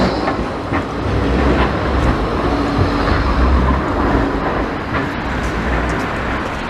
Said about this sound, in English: There's a tram coming round.